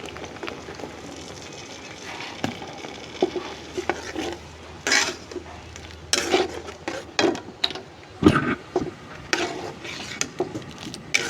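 Ginger garlic paste added to a pan and stirred, with irregular close scraping and clattering of a utensil against the pan over a low background hum.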